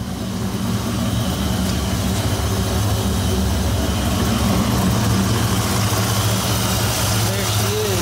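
A 1997 Dodge Viper with headers and aftermarket intakes idles while warming up, a loud, steady, close-up low rumble that holds level throughout with no break.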